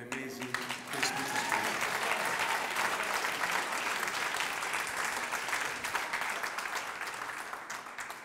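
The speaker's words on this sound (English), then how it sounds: "another round of applause" Audience applause at a postgraduate hospitality graduation ceremony, a dense, steady wash of many hands clapping that swells in after a brief quiet start and holds loud and sustained to the end.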